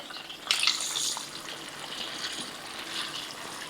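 Pork ruffle fat for chicharon bulaklak drops back into simmering liquid, giving a soft splash and a burst of bubbling that settles into a steady, gentle sizzle and simmer.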